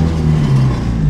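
Honda Civic wagon with reworked exhaust rolling slowly over a speed bump, its engine a steady low drone up close with no distinct scrape standing out.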